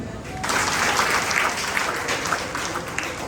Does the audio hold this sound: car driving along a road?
no